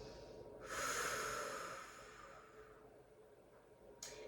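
Slow, close breathing during a Pilates hamstring stretch: one long, soft breath drawn and released through the nose, then a quiet pause and the start of another breath.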